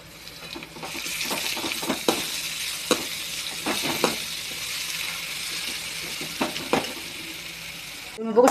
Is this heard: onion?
yes